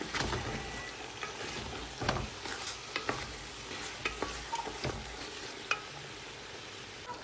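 Crayfish, chopped peppers, parsley and onion frying together in a pan, a continuous close sizzle broken by scraping stirring strokes and small pops, with no talking.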